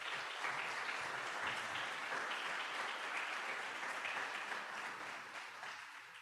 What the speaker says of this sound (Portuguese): les pido un fuerte aplauso para ella